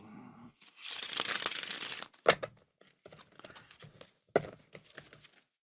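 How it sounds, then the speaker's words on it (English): Tarot cards are shuffled up close, first as a long papery riffle and then as a run of sharp taps, slaps and short rustles. There is no talking. "I'll shuffle them up one more time."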